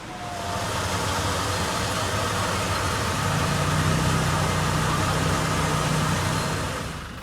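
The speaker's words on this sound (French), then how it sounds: "Son propriétaire a laissé le moteur tourner pendant l'heure nécessaire à l'obtention des papiers." A Tata vehicle's engine left running at idle in Thailand, a steady, loud, broadband rumble with a low drone that holds evenly throughout, close by and with no speech.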